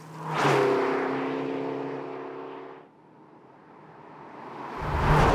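A 2019 McLaren GT sports car accelerating: the engine swells quickly into a loud steady whine with a rising tone, cuts off abruptly midway, then builds again toward the end, heard close with no speech.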